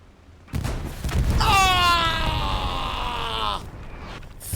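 A big explosion in the World War II shooter Hell Let Loose on the Tobruk map: a sudden loud blast followed by a long, rumbling, groaning roar that fades after a few seconds.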